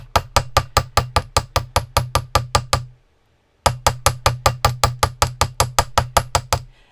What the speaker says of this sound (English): I'm hammering to work harden this metal so that the little loop here is nice and stiff